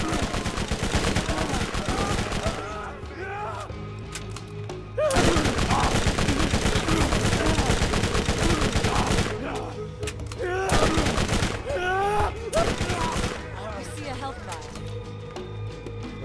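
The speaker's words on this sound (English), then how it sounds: "Who's shooting me?" Rapid gunfire in the Borderlands video game, bursts of automatic shots layered over game music and effects, dense and loud with brief lulls between volleys.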